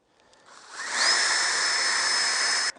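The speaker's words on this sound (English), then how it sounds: "I prefer doing a pilot hole, especially with something like this" A power drill bores a pilot hole into a clamped piece of wood, spinning up from quiet into a steady high whine that holds for about two seconds and then cuts off abruptly.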